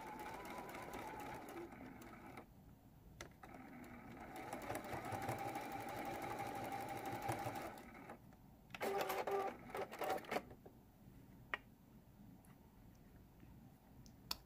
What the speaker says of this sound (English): taking some stitches and some back stitches, and now I'll sew all the way to the end.